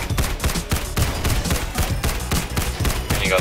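A minigun fires in the game Tower Defense Simulator, a rapid, loud stream of gunfire bursts mixed with other battle shots, dense and continuous.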